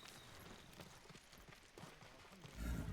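Horse hooves clop in the video game Ghost of Tsushima, a quiet, steady run of soft footfalls ending in a louder low rumble.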